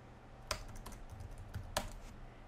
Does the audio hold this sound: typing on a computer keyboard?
yes